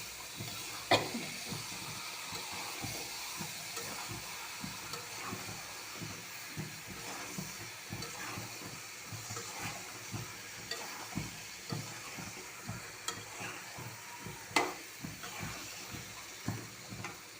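Potatoes and peas fry and get stirred in a pan, a low, continuous sizzle with repeated soft scraping and clinking of the spatula throughout, fairly quiet with no voices.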